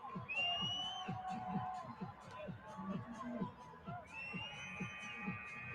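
A basketball tournament championship crowd in an Atlantic City arena cheers steadily, with whistles and shouts rising through a continuous roar as commentators talk over it.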